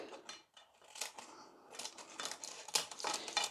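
Scissors snip through excess baking lining paper around a cake tin for a Victoria sponge, a run of close crisp cuts with some paper crinkling, no talk.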